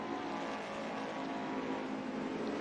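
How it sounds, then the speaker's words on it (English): An Opel touring car in a racing video game speeds down a straight, its engine a steady, sustained high-revving drone held at constant pitch, loud and unbroken, with no talk over it. "Speeding along the straight here. That Opel really is very quick along these straights."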